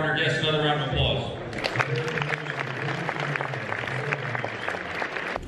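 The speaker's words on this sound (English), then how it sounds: "Please give all of our honored guests another round of applause" Sustained applause from a crowd honoring guests at a US–Korean military ball, dense clapping filling the room with some voices and background music underneath.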